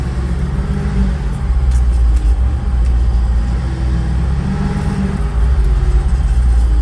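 A car engine hums loudly and close as the driver shifts gears without using the clutch. The low drone rises and falls in pitch with each gear change and slowdown.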